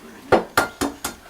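An egg is rapped against the rim of a mixing bowl while preparing meatloaf: four sharp, close clicks spaced about a quarter second apart, each with a brief ringing tail.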